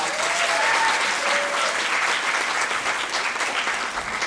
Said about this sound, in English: Ladies and gentlemen, give her another round of applause.